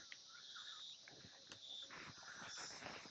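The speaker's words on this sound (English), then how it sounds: "Cicadas buzzing." Cicadas buzz in a continuous high-pitched drone, joined by chirping insect calls, faint and steady outdoors at a bass fishing tournament, with no voices.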